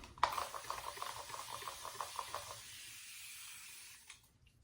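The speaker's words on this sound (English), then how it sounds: "Let's go ahead and spray off with some water" Water sprays to rinse a Yaqi Ultima Slope safety razor, a soft, steady hiss with faint splashes that runs for about four seconds and then cuts off.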